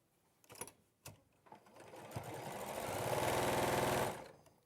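A sewing machine stitches quilt squares together, a few short bursts of needle chatter building into a steady, fast whirring run that lasts a couple of seconds before stopping, close and fairly loud.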